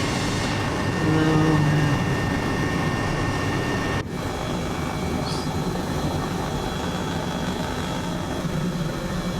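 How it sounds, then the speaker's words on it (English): A helicopter engine winding up at an airfield runway, a steady broadband turbine roar with tonal whine, loud and continuous throughout. "I'm just waiting for Larry to get his helicopter going."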